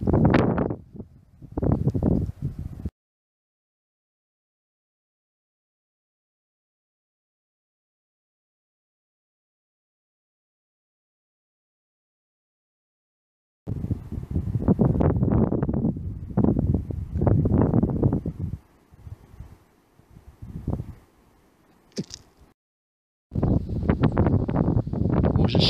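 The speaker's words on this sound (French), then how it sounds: "Là aujourd'hui on a du vent de l'ouest" Gusty west wind buffeting the microphone outdoors beside a vertical-axis wind turbine in loud rumbling bursts, broken by a long silent gap, then returning in strong roaring gusts.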